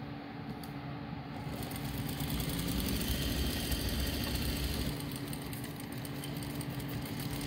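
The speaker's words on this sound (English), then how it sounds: "I'm just sewing down the other side too." A sewing machine runs continuously while stitching a fabric face mask: a steady mechanical whir with a rapid rattling rhythm, close and fairly loud, swelling slightly midway.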